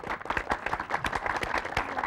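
Audience applause for a TV game show pair, a quick patter of many hands clapping at moderate volume, fairly close and without talk.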